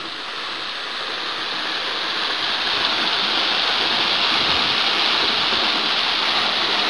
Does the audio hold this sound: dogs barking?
no